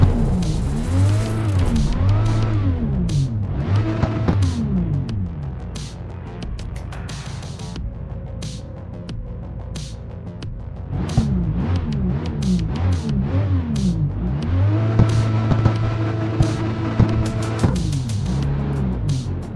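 A Nissan 300ZX in the CarX Street racing game revs loudly and repeatedly, its engine pitch sweeping up and down through gear changes with tire squeal between, easing off midway before climbing again; no speech.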